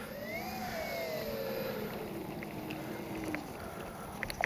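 Electric motors of an Avios Twin Otter RC plane whine as it passes, a faint rising then falling tone fading into the distance, with a few small clicks near the end.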